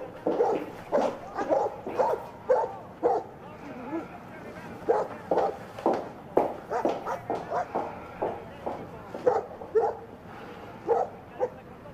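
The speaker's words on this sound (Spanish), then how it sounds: "¿Qué les pasa a los perros, eh?" Several dogs bark and yip in repeated bursts throughout, fairly close, mixed with some whimpering, while people talk over them.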